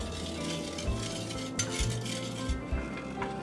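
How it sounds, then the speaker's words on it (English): A spoon stirs lemon juice, egg yolk and sugar in a bowl over a double boiler of hot water, with repeated close scraping and clinking against the bowl and a soft background hiss. "I'm going to constantly stir it"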